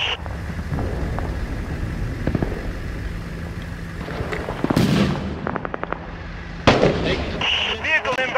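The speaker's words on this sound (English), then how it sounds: "We are taking sniper fire!" Gunfire from the Six Days in Fallujah combat game, set around a convoy under sniper attack, arrives as a few sharp cracks and a quick cluster of pops midway, over a low battlefield rumble with radio-like chatter in the background.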